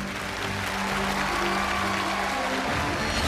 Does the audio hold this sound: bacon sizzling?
no